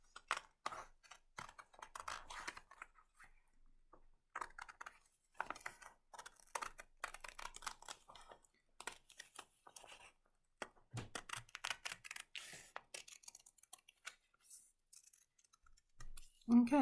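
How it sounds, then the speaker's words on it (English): Scissors cutting a circle through four stacked paper pages for an upcycled paper bauble, a long run of quiet crisp snips and rustles close up, irregular in rhythm with brief pauses. "So now that I'm going to cut round the circle."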